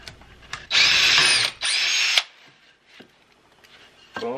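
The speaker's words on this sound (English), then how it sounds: "Maybe if I pre-drill this one, it'll last longer." A power drill whirs in two short bursts, pausing briefly between them, close by, pre-drilling wood, followed by quiet handling noises.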